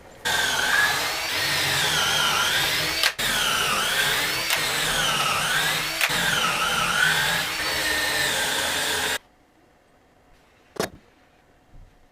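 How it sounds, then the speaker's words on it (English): Power drill whirring steadily as it drives 1.25 inch coarse thread pocket screws into softwood for a small closet organizer, a continuous loud motor whine with brief pauses, ending abruptly in near silence with one sharp tap. "I'll put a few pocket screws through here."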